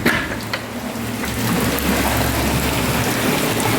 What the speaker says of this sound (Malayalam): ചെറുതായിട്ട് മഴയും കൂടി പെയ്യുന്നുണ്ട്